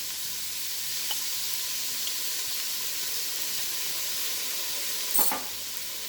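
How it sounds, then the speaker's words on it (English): Onions, other vegetables and minced garlic sautéing in a pan give a steady, soft sizzle and hiss throughout, with a few faint clinks and a brief louder stir near the end. "My God, I love it when I saute onions and other vegetables."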